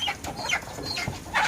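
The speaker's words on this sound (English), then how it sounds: "They are fighting the chicken. It's a chicken of a different breed" Layer hens fighting a chicken of a different breed, giving sharp, agitated clucks and squawks close by in quick bursts, with no talking.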